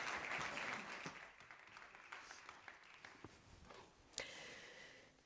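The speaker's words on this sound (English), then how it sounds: "A round of applause, please." An audience claps at a main-stage energy technology summit session, the applause fullest at first and then thinning to scattered claps that fade away.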